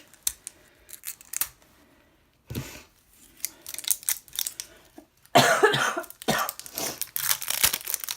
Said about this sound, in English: I'm gonna apologize ahead of time for any more coughing in this video